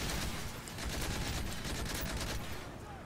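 An M60 machine gun fires in Modern Warfare 3 Spec Ops, dense and continuous rapid shots at moderate loudness that fade slightly toward the end.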